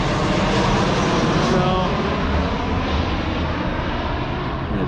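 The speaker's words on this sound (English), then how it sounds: "I got a plane passing by" An airplane passes overhead along a flight path, producing a loud, steady broadband engine roar that fills the whole stretch outdoors with no talk over it.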